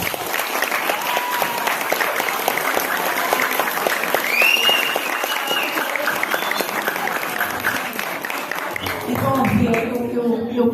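Warm, sustained applause from a large audience, steady clapping that tapers off near the end as voices begin.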